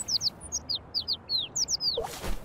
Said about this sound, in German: Oh, die Vögel sind auch so sweet.